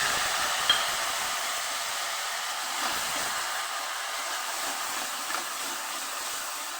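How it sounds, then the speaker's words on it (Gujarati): A steady, continuous sizzling hiss of tomatoes frying in hot oil, holding at an even level throughout with no voices. "અહીં આપણે ટમેટાનો વઘાર કરી દઈશું"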